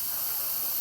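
An Instant Pot's steam release valve hisses in one steady, loud, broadband rush of steam, unbroken for nearly a second, with no voices over it.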